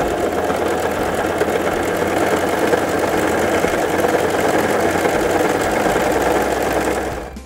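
A Brother CV3550 coverstitch machine sewing a narrow top cover stitch runs in one loud, steady, rapid mechanical whir close by, slowing and stopping at the end.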